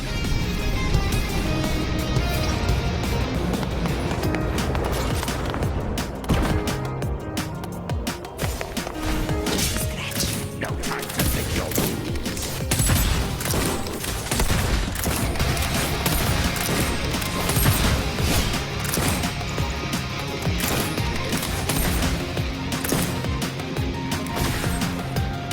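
Continuous rapid gunfire in a video game while a character dodges with a feather blade, a dense unbroken clatter of shots and mechanical impacts lasting throughout, loud and near with no talk.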